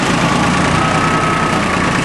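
A Yanmar YM1401D diesel M4WD tractor engine idles close by with a loud, even diesel drone and low rumble, steady for the whole stretch with no talk.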